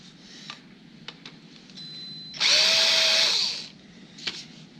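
A shop drill bores holes in a metal hand crank for a pre-1952 Chevy/GMC vehicle, rising to one loud, close whine of about a second before spinning down, with quieter clicks and knocks around it.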